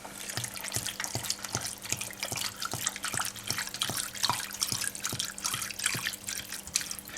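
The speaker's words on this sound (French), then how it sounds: "je vous propose également de mettre l'ensemble à niveau avec de l'eau" Water poured into a Taiwanese beef noodle soup mixture, a close, continuous splashing and trickling stream with a quick steady pulsing, no talking.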